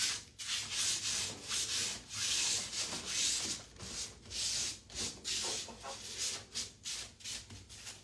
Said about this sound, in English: Smoothing, pushing out those wrinkles, getting a nice flat surface.